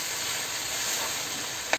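Sliced mushrooms and onion sautéing in a hot pan, giving a steady loud sizzle that hisses without a break, close up and with no one talking.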